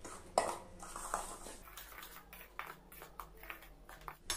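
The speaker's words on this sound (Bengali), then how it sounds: "দিয়ে আবার একটু মিশিয়ে নিব।" Sugar being mixed into semolina cake ingredients in a bowl, heard as continuous scraping and clinking of a spoon against the bowl, fairly faint and steady with no talking.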